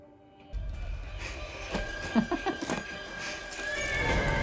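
A horse neighs clearly, a rising and falling whinny, with hoof clatter and background noise around it.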